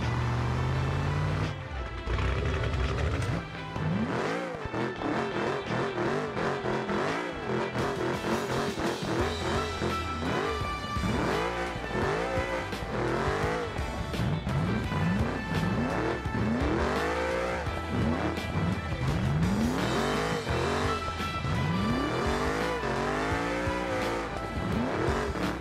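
A totaled C6 Corvette rebuilt as a drift car screams through high revs up to about 8,000 RPM, with rising and falling engine sweeps and sustained tire squeal, loud and close throughout with no talk.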